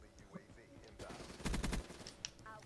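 Rapid gunfire in the multiplayer video game Black Ops 3 rattles in a short burst over game noise, with faint talk in the background.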